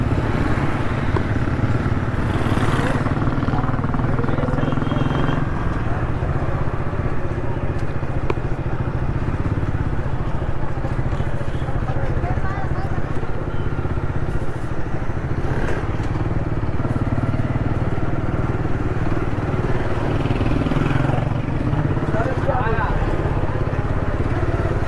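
A motorcycle riding slowly through a crowded Saddar street in Karachi lined with garbage and handcarts, its engine droning steadily up close amid traffic clatter and passing vehicles, with voices mixed in.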